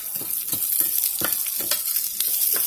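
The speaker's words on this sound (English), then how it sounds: "just sort of shake that, stir it around, get your spices" Spices being stirred into a pot of curry for pork chops, a steady busy sizzle with repeated scraping strokes, close and continuous with no talking.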